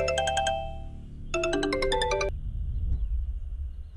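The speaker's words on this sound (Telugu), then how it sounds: "ఆ ఫోన్ అటెండ్ చేయరా." A phone ringtone plays in a dubbed Telugu movie scene, two bursts of a bright electronic melody close and loud, each lasting about a second, followed by a low rumbling background.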